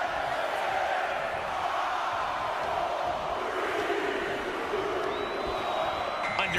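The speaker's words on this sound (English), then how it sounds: "Listen to this crowd count the next one in." An arena crowd roars and chants in unison, counting down the next entrant of a Royal Rumble match in the wrestling game WWE 2K24, a steady wash of massed voices throughout.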